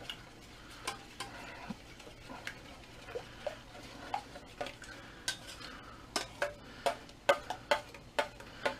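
A spoon stirs a thick sumac pudding mixture with sugar, scraping and clicking against the pot in a steady run of small, close taps, with no talking.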